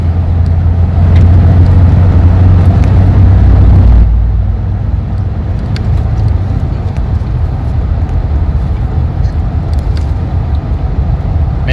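A car under full throttle during an 80–120 km/h acceleration run with a full tank and BlueTEC boost added, its engine roaring loud and close, with the tone dropping and steadying partway through.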